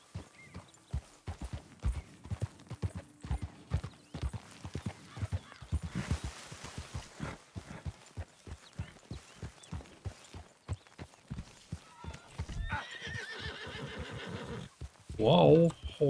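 Horse hooves clip-clop in a steady walking rhythm in the video game Red Dead Redemption 2, followed by a loud whinny near the end, with a voice speaking briefly over it.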